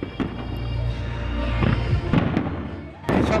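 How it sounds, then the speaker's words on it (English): Fireworks display for Monaco's national holiday, designed by German pyrotechnician Markus Katterle, heard from a distance: a steady rumbling roar with several sharp bursts and thuds, voices faintly mixed in. "He watches from a distance as the fireworks go off."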